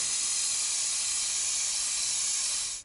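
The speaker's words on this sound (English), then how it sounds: "They look pretty rusty, so I'm going to use penetrating oil to break them loose." Penetrating oil sprays from an aerosol can onto rusty nuts on a Mazda MX-5 NA Miata front fender, a loud, close, steady hiss held for nearly three seconds before it cuts off abruptly.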